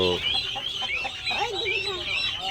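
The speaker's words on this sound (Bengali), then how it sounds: "ওই দেখো দেশি মোরগ, এই দেখো দেশি মোরগ, লাল ঝুটি মোরগ" A red-combed desi rooster, a native village chicken, clucks in a short series of nearby calls with bird chatter around, while a person talks over it.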